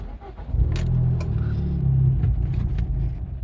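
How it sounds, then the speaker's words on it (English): A Fiat 595 Abarth fitted with an immobiliser cranks and starts with a short rumbling idle, then cuts out, with keys jangling nearby; the engine sounds close and moderately loud. "Notice the vehicle cuts out."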